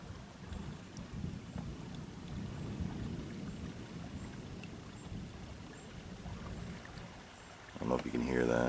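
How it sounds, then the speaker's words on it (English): Low, continuous thunder rumbles far off over a campsite on a kayak camping trip in Upper Michigan as clouds roll in and the air cools, with a short gusty burst near the end. "been hearing some thunder"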